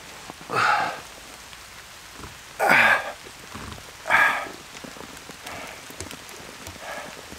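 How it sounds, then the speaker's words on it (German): Rain falling at night beside a lake, a faint continuous patter under a quiet background, broken by three louder bursts of rustling noise early on and softer ones later. "Es regnet jetzt schon wieder"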